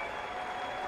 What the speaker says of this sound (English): receiving sympathetic applause from the big crowd on the far side